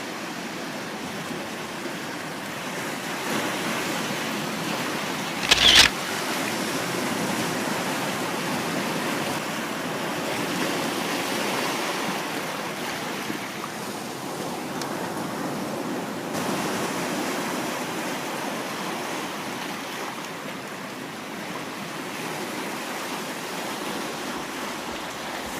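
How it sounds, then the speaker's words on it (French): Sea waves wash steadily at the seashore, a continuous broad roar of surf with gentle swells in intensity. A brief dull knock sounds early on, and no one speaks. "Alors là, moi, c'était un bord de mer."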